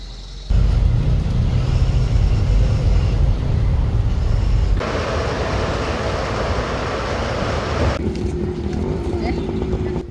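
A car drives along, a loud, low rumble of engine and road noise that shifts in level partway through as the vehicle moves. Voices talk over the drone.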